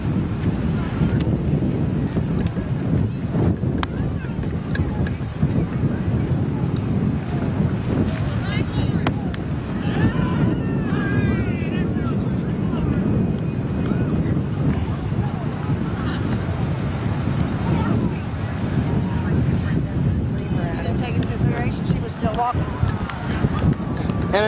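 Steady wind buffets the microphone outdoors at the Washington Monument, a constant loud rumble throughout with faint voices talking underneath.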